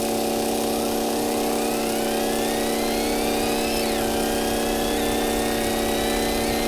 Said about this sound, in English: So this is the one with the normal engine in it.